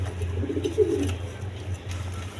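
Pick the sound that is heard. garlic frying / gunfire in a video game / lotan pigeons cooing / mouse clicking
lotan pigeons cooing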